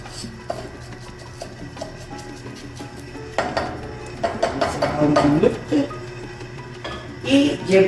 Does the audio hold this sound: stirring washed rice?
yes